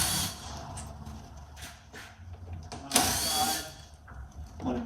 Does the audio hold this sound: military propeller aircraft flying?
no